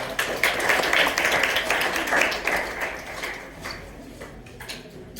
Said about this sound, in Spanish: Un aplauso para su compañero.